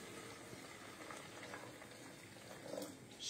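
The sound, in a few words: pouring water for plant milk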